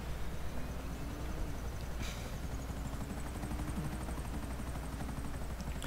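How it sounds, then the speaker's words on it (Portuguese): A helicopter flies overhead in GTA V Online, its steady rotor thrum and engine whine continuous and loud throughout, with a brief sharp burst partway through. "Ele vai mostrar o helicóptero pra nós ver. Quando ele tá sobrevoando,"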